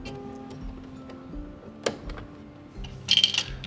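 A button application foot clicks into place on a computerized Bernette sewing machine, giving a sharp snap followed by a quick cluster of small plastic-and-metal clicks over a quiet background hum.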